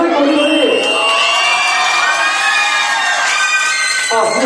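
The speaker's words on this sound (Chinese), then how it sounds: "先给他们掌声鼓励鼓励" A large crowd at a high school graduation-trip evening party game cheers, whoops and shouts loudly and without pause for several seconds, with excited voices blended through the noise.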